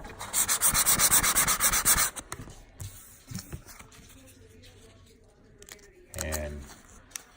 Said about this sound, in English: credit card and you want to rub this down real hard